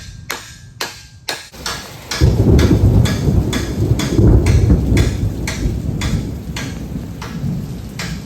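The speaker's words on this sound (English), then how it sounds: "why is it storming so much out here?" Heavy thunderstorm rain pours down loudly and steadily, with a rumble of thunder swelling in after a few sharp knocks at the start; no talking is heard.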